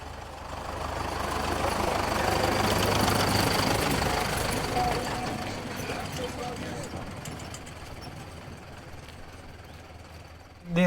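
A tractor engine idles on a farm in Groningen, giving a steady low rumble and hum that holds throughout the clip beneath faint background voices and noise.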